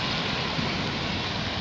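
Steady outdoor rain, light drizzle heard while walking out to buy fish and chips, makes a dense, even hiss with no breaks; fairly loud and constant, without voices.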